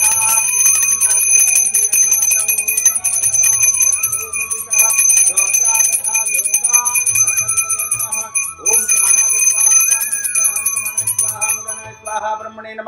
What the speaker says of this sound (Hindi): गरुड़ घंटी बजाते हुए भगवान को नैवेद्यम अर्पण करना चाहिए।